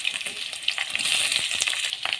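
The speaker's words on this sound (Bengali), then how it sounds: "আলুগুলো ভাজা হয়ে গেছে, আবার দিয়ে দিচ্ছি সোয়াবিনগুলো।" Soybean chunks and potatoes frying in a wok, a continuous close sizzle broken by scraping stir strokes and small clatters.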